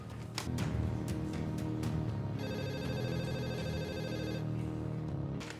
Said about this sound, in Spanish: Tercera llamada sin respuesta.